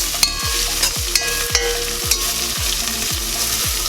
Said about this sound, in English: We want to make sure this is well cooked. It needs to be sauteed very well to bring out